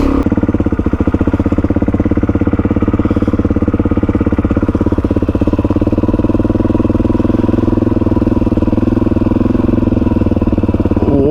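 A Suzuki DRZ400E motorcycle engine labours steadily on a trail climb toward a lookout, a loud, close, continuous thumping drone with a dense rapid pulse and no talk over it.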